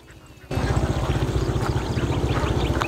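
A large flock of ducks in a rice field quacks in a dense, continuous chorus that starts abruptly and stays loud, with overlapping calls close by.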